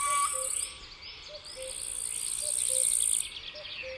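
Crickets at dusk keep up a dense, shrill chorus of high pulsing trills that swells and drops away in turns, faint and distant, with a soft repeated low call beneath and no voices.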